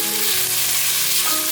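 Carrots and vegan chicken sizzle and fry steadily in a hot pan for a tomato noodle dish, a dense close crackle of oil with faint stirring and no talk.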